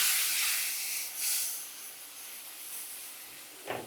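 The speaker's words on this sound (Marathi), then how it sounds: "थोडं गरम पाणी घालू आणि याला परतून घेऊ." Turmeric, chili powder, coriander powder and dried fenugreek leaves sauté with a splash of hot water in a pan, producing a loud, close steaming hiss that swells and fades, then surges briefly at the end, with no voices.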